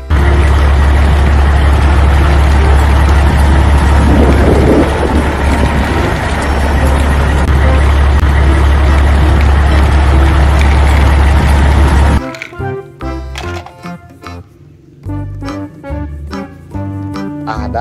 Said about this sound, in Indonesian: Ada mobil truk molen.